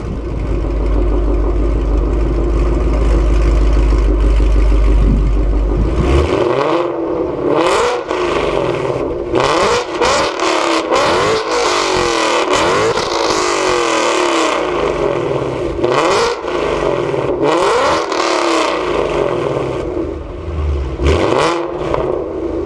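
A 2016 Ford Mustang GT V8 idles with a deep rumble, then revs and accelerates hard through several gears, with loud rising engine roars and shifts that continue to the end, and no talking.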